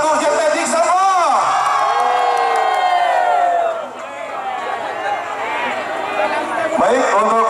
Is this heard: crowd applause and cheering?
yes